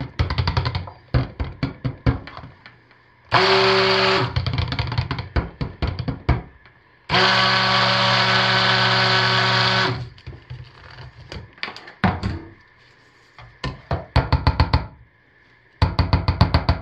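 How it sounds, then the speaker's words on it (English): A stick blender whirs through an orange cranberry soap mixture in two sustained bursts of about one and three seconds, with clattering knocks and taps of handling between them. "So well that I definitely will have to hit it with a stick blender."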